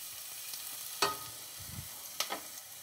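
Carrots and celery sauté in a pan for pasta e fagioli soup, a soft low sizzle with two sharp utensil clacks and a brief stir, quiet and close with no talking.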